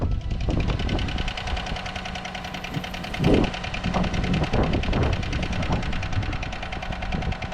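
A rough truck engine cranks and runs, settling into a steady rattling idle with a brief louder burst partway through.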